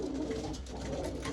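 Pigeons cooing in a seller's loft, a soft continuous murmur of low coos, close but fairly quiet, with no talk.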